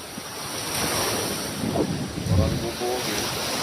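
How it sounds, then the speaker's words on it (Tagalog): Steady roar of large ocean surf with waves washing in, mixed with gusty wind buffeting the microphone; faint voices speaking Filipino sit beneath. "Kaya dagko tayo ang balod"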